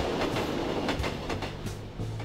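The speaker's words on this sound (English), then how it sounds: "How come the trains don't stop here no more, man?" Train passing in The Journey Down adventure game, a steady rumbling roll with rhythmic clickety-clack wheel beats throughout, loud and close, no voices.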